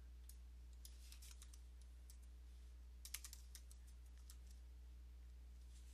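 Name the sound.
typing text on a computer keyboard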